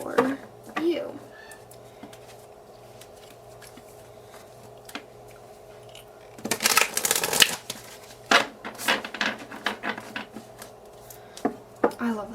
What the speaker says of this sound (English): I love the sounds of cards shuffling